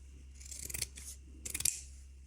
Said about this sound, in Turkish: Bunun için de yine şöyle uzun bir keçe kesiyorum.